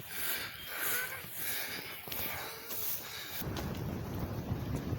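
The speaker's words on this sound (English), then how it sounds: "See, this sort of rain, I don't really mind. This is light." Light rain falls outdoors as a soft, steady hiss, with rustling movement at first and the patter growing denser and more even toward the end; no one speaks.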